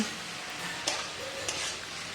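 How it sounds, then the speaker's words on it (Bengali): Fried potatoes are stir-fried with spice paste in a pan, producing a quiet, steady sizzle with a couple of sharp scraping stirs. "এখন আলুর সঙ্গে মশলাটা আমি আবার ভালো করে একটু কষিয়ে নিচ্ছি"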